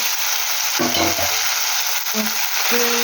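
Prawns fry under a lid in a pan, giving a loud, steady hiss of sizzling oil that runs throughout, with a few brief low knocks and tones underneath.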